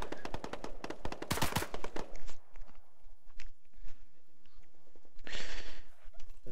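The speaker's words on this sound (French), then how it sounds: "Ah, avec ces coups de feu là," Gunfire in the military shooter ArmA 3, with rapid bursts of close automatic shots early on and scattered further reports later, plus a short loud blast near the end.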